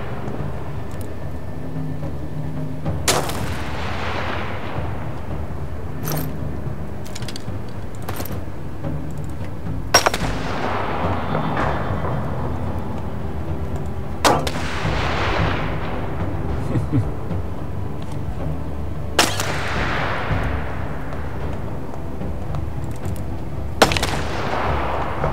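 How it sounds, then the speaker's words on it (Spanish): Sharp sniper rifle shots crack out in the war-survival game This War of Mine, roughly six loud reports spaced several seconds apart, each with a long echoing decay over a low rumbling backdrop. "se escuchaban muchos tiros de francotirador"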